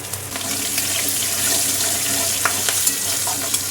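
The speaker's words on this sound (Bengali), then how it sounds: "ফোড়ন দিয়ে দিচ্ছে তেজপাতা শুকনো লঙ্কা আর গোটা জিরে হিং যে একটু কাঁচা লঙ্কা আছে আর চিনি আছে হুম তেলের মধ্যে দিয়ে দিই" Bay leaf, dry chilli, cumin seeds and asafoetida tempering in hot oil for a vegetarian dish, giving a steady loud hiss and sizzle with a few sharp crackles and pops near the end, no voices.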